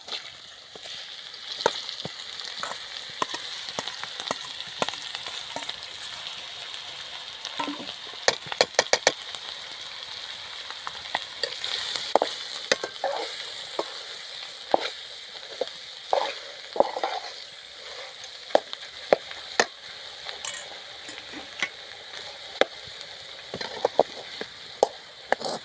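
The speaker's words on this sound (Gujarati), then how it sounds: "મસાલો સતળાય એટલે બટેટા નાખી દઈએ." Boiled potatoes tossed into sizzling spice masala for samosa filling fry with a constant crackling sizzle, while scattered sharp clicks and scrapes of stirring break through over the frying.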